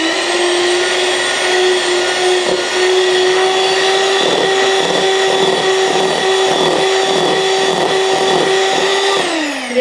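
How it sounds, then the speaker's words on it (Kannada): A blender whirs steadily through eggless honey cake batter in a home kitchen, a loud continuous motor drone with a rising pitch partway through that cuts off abruptly near the end, no talk over it. "ಕರೆಕ್ಟಾಗಿ ಮಿಕ್ಸ್ ಆಗಲಿ ಅನ್ನೋಗೋಸ್ಕರ ಬ್ಲೆಂಡ್ ಮಾಡ್ಬೇಕು."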